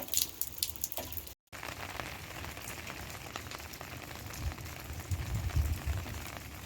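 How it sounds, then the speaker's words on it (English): Steady rain falls on surfaces during a calm, windless winter storm in metro Phoenix, a constant close patter with one brief dropout and no voices. "Constant rain. The wind has completely died down now"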